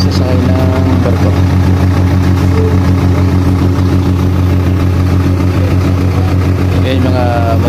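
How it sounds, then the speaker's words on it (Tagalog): Motorcycle engines idle loudly and steadily while the bikes queue to board a ferry ship between Leyte and Negros, a constant low droning hum with voices faintly underneath. "Yan yung mga motor, yan yung mga papasok din ng barko na"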